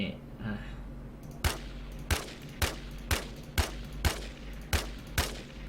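An unsilenced gun in a video game fires about eight evenly spaced, loud, sharp shots roughly half a second apart over a steady background hum.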